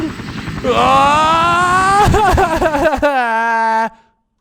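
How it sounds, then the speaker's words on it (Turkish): A helicopter's propeller whirs loudly and steadily in a video game before cutting off abruptly, with a high tonal engine whine and brief choppy bursts midway. "Helikopterini pervanesini bana yaklaştırma."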